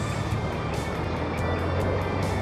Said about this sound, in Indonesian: Saya menggunakan motor Jupiter.